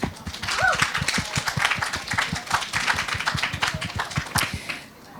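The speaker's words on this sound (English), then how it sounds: "A round of applause," Audience at a festival stage session applauds a cancer survivor, dense steady clapping from a crowd lasting about five seconds, fading away at the end.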